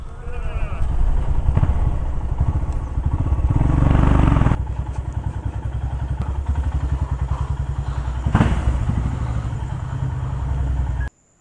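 A motorcycle ridden on the Zanskar expedition, its engine thumping steadily and loudly up close with rattling and wind buffeting, surging briefly before cutting off abruptly at the end.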